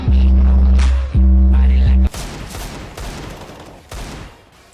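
Nova shotgun blasts in Counter-Strike, a few loud, sharp booms in quick succession over a steady game hum, followed by fainter clatter and shots as the fight continues.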